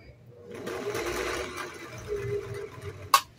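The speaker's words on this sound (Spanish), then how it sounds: "Estamos cosiendo drill con aguja 9014 y lo calibre 120" Vintage Singer 411G sewing machine stitching drill fabric in straight stitch with a size 120 needle, a quiet close motor whir with rapid needle clatter for a few seconds, ending in a sharp click.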